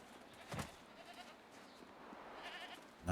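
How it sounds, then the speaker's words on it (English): Goats bleat in the Jade Empire video game at Tien's Landing, with a couple of distinct, fairly faint calls over a quiet ambient game background and no talking. "There's the goats."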